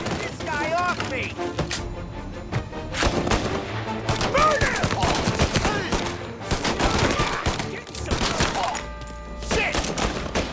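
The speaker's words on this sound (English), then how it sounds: "All on-duty officers, gunshots being reported." Heavy gunfire in Mafia: Definitive Edition, with repeated loud close shots and bursts, thumps and clatter in a chaotic firefight, and voices shouting throughout.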